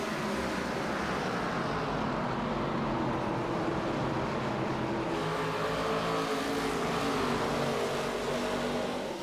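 Stock cars in the Pro Cup Series race at Richmond, and several engines make a continuous, dense roar that sweeps past from middle distance, steady and loud throughout with no clear voices.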